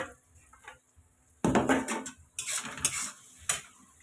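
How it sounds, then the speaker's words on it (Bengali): Spice paste frying with onions in a pan, with metal spoon scraping and clattering against the cookware in bursts, quiet pauses between stirs, close and fairly loud. "পুরো মশলাটা ভেজে নিলাম সব দিয়ে পেঁয়াজের সাথে।"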